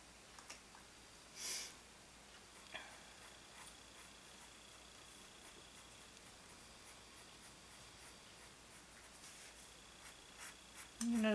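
A delicate dip pen nib scratches lightly across paper, faint soft strokes in a quiet room with a few brief louder scrapes.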